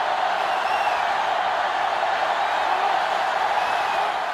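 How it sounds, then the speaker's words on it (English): A stadium crowd in NCAA Football 2005 on GameCube, Florida against Clemson, roars as a steady, dense wall of cheering noise with no breaks, loud and continuous throughout. "this crowd is going absolutely insane"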